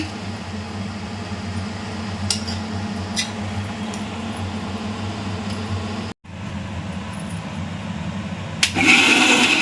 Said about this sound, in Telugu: బీరకాయ పీసెస్ యాడ్ చేశాక పచ్చగానే గ్రైండ్ చేసుకోండి, స్మూత్ చేయకండి.